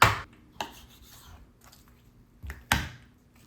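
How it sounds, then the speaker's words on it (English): A knife trimming raw pork spare ribs for competition St. Louis style cuts: a few sharp scraping strokes and thuds on a board, with quiet pauses between them, close and alone. "we're going to go ahead and start trimming"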